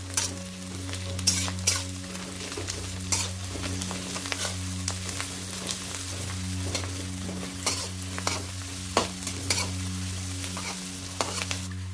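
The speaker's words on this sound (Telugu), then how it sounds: "ఉల్లిపాయలు వేగిన తర్వాత దీనిలోనే అల్లం వెల్లుల్లి పేస్ట్ కూడా వేసుకొని పచ్చివాసన పోయేంత వరకు ఫ్రై చేసుకుందాం." Onions and ginger-garlic paste stir-fry in hot oil with a steady close sizzle, broken by repeated scraping and clicking strokes of a spatula against the pan; no one speaks.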